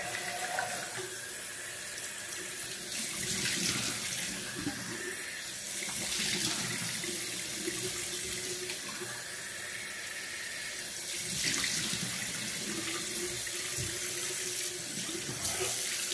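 Cold water runs steadily from a bathroom tap into a sink during a straight razor shave. The stream is close and continuous, with a few brief swells in the splashing.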